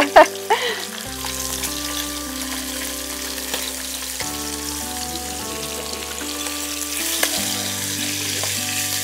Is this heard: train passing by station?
no